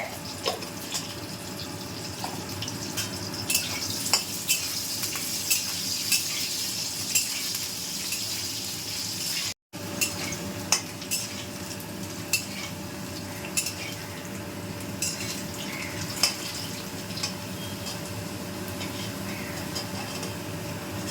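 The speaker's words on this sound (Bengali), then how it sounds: "লাল আলুটা দিলাম। এগুলো একটু নুন দিয়ে আমি ভেজে নেব।" Continuous sizzle of potatoes and sweet potatoes frying in salted oil, with occasional stirring and utensil clicks, steady and close, with a brief dropout midway.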